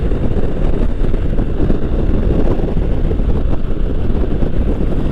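Harley-Davidson V-twin motorcycle cruising at highway speed around 70 mph in sixth gear, a steady loud low engine drone mixed with heavy wind rush, continuous and close with no talking.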